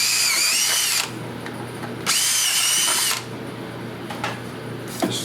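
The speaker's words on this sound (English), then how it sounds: "And we'll just pre-drill." A power drill pre-drills holes for battery tie-downs on a 2006 Club Car DS electric golf cart, with two loud, high, whirring bursts of about a second each separated by quieter handling noise.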